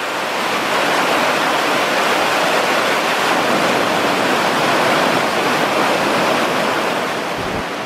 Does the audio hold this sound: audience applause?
no